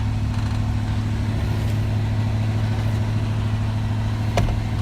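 A 1985 Chevrolet C10 pickup engine idles steadily nearby, a low even rumble with one brief click near the end, and no talk.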